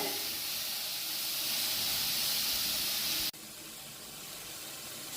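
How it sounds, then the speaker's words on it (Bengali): Carrots fry in a pan with a soft, steady hiss that briefly drops in level partway through and then carries on quietly, with no talking. "এখন গাজরগুলোকে ভালো করে ভেজে নিতে হবে।"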